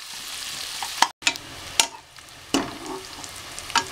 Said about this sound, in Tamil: இந்த வெங்காயம் நல்லா வதங்கி கொஞ்சம் ப்ரௌன் ஆகிற வரைக்கும் வதக்கிக்கோங்க.